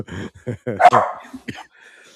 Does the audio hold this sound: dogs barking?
yes